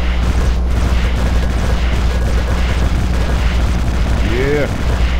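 Bombs go off in the video game Kitten Squad, a dense, continuous rumble of booming blasts that runs loud and steady throughout, with game sound effects layered on top.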